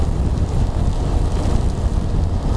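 Heavy rain and wind pound a motorcycle rider on a 2019 trip from Dhaka to Sylhet, making a loud, steady, dense roar that fills the whole stretch with no voices.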